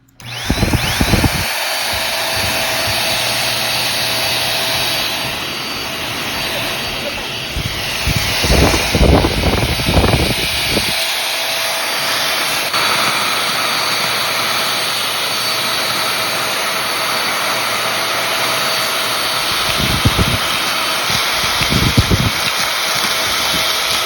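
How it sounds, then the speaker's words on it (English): A Hikins stick vacuum cleaner whirs at a constant high pitch throughout, with a few brief bumps and knocks as it is moved around. "I installed all the parts for this vacuum cleaner. Now it's time to use this."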